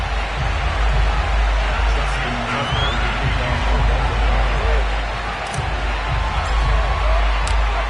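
A Baltimore stadium crowd before a Ravens–Colts opening-weekend Sunday night game in an EA Sports football game, a dense, steady roar of murmur and distant cheering that fills the whole stretch without letup.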